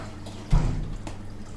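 Regular tap water poured into a container holding tomatoes gives a brief splash and trickle, lasting about half a second, against a quiet steady background hum.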